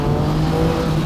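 A Husqvarna 701 Supermoto motorcycle rides past close by, its engine giving a loud, steady, buzzing drone that holds without a break for about a second, with no talk over it.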